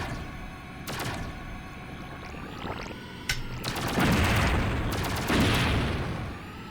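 Missiles firing in a Sega Saturn video game, a burst of rapid whooshing blasts and booming explosions over game effects and music, loud and close.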